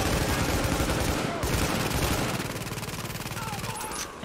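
Rapid automatic gunfire from the shooter game The Division rattles in dense bursts, loud and close, shifting to a faster, tighter stream of shots near the end with no clear talk.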